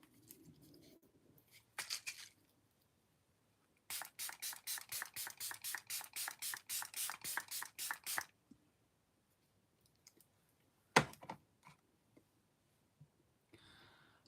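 Beauty Crop Glow Milk Mist setting spray is pumped in a quick burst of about fifteen rapid, hissing spritzes over several seconds. Scattered quiet clicks and handling noises come before and after in a near-silent room.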